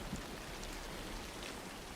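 Rain falls steadily in a dense, even hiss, heard faintly throughout with no voices.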